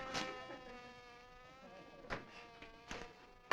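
Bees buzz with a faint, wavering drone, broken by a few soft taps.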